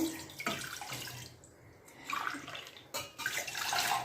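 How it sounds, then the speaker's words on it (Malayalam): Water poured from a glass into a cooking pot of ragi in a home kitchen, a close splashing pour in bursts with short pauses between them, no talking. "അതിലേക്ക് ഈ ഒരു മൂന്ന് ഗ്ലാസ് വെള്ളം ഒഴിച്ചു കൊടുത്തിട്ടുണ്ട്"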